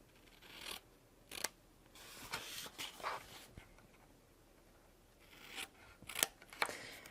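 Scissors snip and trim paper just outside a square while making a Christmas advent calendar: a series of crisp, close cuts and rustles in irregular bursts, with quiet pauses between.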